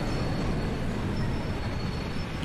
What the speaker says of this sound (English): That's just what trains do, dude.